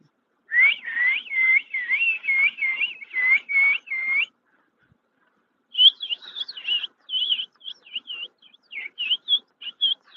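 A person whistles in imitation of a bird, a run of quick, regular chirping phrases followed by a short pause and then a choppier, more broken series of whistled tweets, clear and close with no other sounds.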